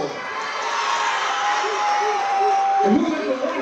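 Students at a high school Veterans Day ceremony cheer and shout together as a loud, sustained crowd in a large room, with voices calling out over the steady roar.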